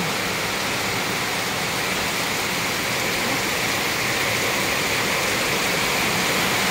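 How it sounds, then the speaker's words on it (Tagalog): Heavy rain pouring steadily in Palawan, a dense unbroken hiss with no letup, close and loud throughout. "ang lakas ng ulan sa amin sa Palawan"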